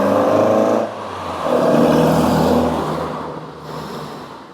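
Engine of a Ford Cortina Mk2 1600E driving in fourth gear at low revs, a steady close droning hum that swells in the middle and eases slightly toward the end, with no voices.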